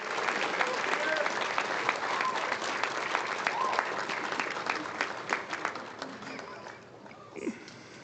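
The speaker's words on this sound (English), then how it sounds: "Please clap for your families and the people that were there for you through this whole thing." A crowd at a medical school commencement ceremony claps loudly and continuously, the applause thinning toward the end as a voice and some murmuring come through.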